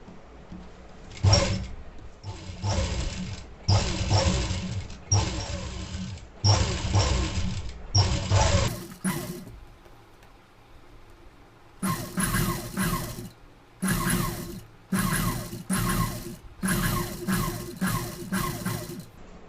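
Sewing machine stitching piping onto a plain blouse, running in repeated bursts of steady mechanical whirring separated by short pauses, close and fairly loud, with no voices.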